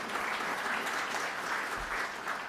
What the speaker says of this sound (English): Another round of applause, please, for Isaac.